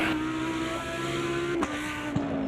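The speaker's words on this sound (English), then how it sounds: "Such an aggressive car. Listen to the pops and bangs on overrun." Aggressive race car in the Automobilista 2 sim racing game holds a steady engine drone with a couple of sharp overrun pops and bangs near the end, close and continuous, with no talk.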